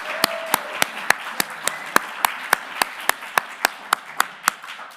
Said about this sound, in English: how about another round of applause for all of our competitors tonight?